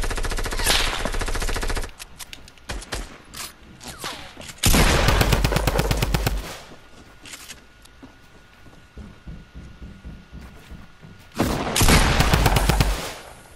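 Gunfire in Fortnite, with loud bursts of rapid automatic fire in three separate stretches and scattered single shots in between, close and dominant, with no talking.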